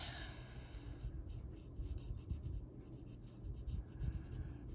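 Pencil rubbing and scratching on a paper coloring page while filling in magnolia branches, soft close strokes repeating steadily with low background rumble and no talk.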